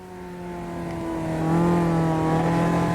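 A Caterham race car engine in a racing simulator drones steadily with clean, smooth harmonic tones, its pitch climbing slightly midway as it gets louder; no voices.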